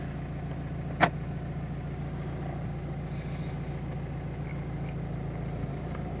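A sharp click of a start button, then a 2014 Renault Megane 1.5 dCi diesel engine starts and idles with a steady low, even rumble close by.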